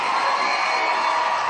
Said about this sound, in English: the crowd are excitable and they're making plenty of noise down this end of the stadium